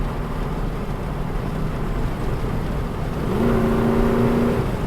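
A Ford Bronco engine drones steadily while driving on the road, then rises in pitch and loudness near the end as it downshifts, a sustained close-up hum with no speech.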